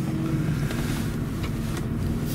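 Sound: Maybach 57S V12 engine noise

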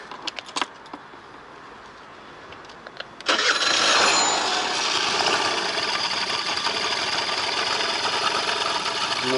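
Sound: scooter engine starting and idling

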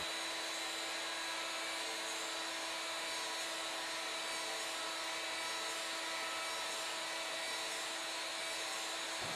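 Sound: CNC mill turning a Native American flute

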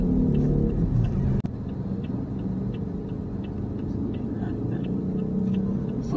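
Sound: car driving through town streets

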